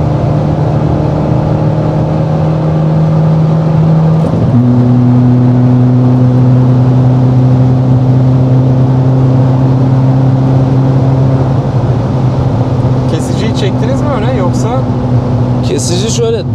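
A modified 250 HP VW Golf Mk6 with a 1.6 TDI diesel engine revs steadily with a loud, droning engine note. The pitch climbs in a step partway through and holds high, with no one talking.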